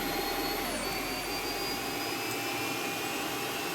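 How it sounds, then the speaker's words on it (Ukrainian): A Boeing 737-800 jet engine in a flight simulator whines as it spools up during start, a steady rising hum with high tonal whistles, fairly quiet and continuous. "У нас розкручується двигун."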